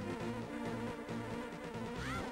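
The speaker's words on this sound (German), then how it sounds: "das ist doch auch die goldene Biene, oder nicht?" A golden bee from the video game Zelda: A Link to the Past buzzes steadily with a thin, droning hum that carries on throughout, alongside game sounds and a brief rising chime near the end.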